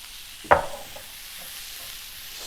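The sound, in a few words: meat added back into pan with rosemary, sizzling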